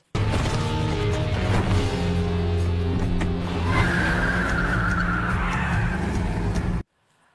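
A car speeds away in a scene from the 2012 film Stolen, its engine roaring loudly, with skidding tires squealing, before the sound cuts off abruptly into silence.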